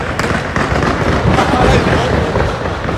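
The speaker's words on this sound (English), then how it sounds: "Some gunshots." A couple of sharp gunshot cracks ring out over a loud, rumbling, noisy background with indistinct voices during a riot.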